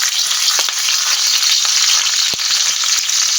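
Leaves frying in hot oil in a pan before fish is added, a loud, continuous crackling sizzle with scattered sharp pops and spatters, close and alone.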